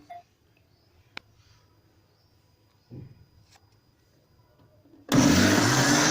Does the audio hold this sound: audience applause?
no